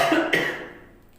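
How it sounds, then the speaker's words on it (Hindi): A single sharp cough from a person demonstrating a pressed breathing pipe, heard close and fading quickly into quiet, with no talk. "कफिंग होने लगी तुरंत"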